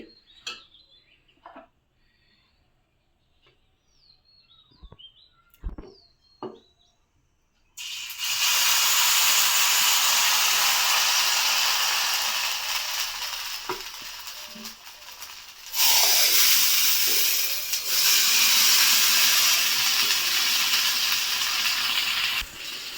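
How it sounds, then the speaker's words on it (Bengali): Spicy chitoi pitha rice cakes cook in a pan. First come faint scattered ticks and clinks. Then a loud, steady hiss of steam and sizzle takes over, eases briefly, and surges back to the end. "আরেকটা পিঠা ভেজে দেখাচ্ছি"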